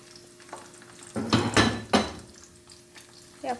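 Long-sliced onions fry in a pan to top lentil rice, with a faint sizzle under a few sharp scraping clanks as a utensil stirs them.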